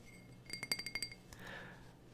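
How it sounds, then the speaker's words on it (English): A drinking glass clinks quickly several times as it is handled, a short bright run of light taps followed by a soft rustle, faint and close in a quiet room. "So I got my glass right here."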